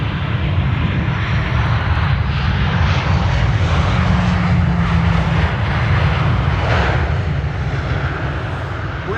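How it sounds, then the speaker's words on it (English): A jet airliner takes off at Amsterdam Schiphol Airport, heard as a loud, steady roar of engines with heavy low rumble and wind noise, lasting the whole time with no voices. "With the sound of starting airplanes blowing this way."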